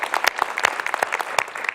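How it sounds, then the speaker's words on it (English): Applause from a civic audience at a city summit, a dense patter of many hands clapping steadily throughout, fairly close and alone without speech. "Round of applause for the staff and our businesses."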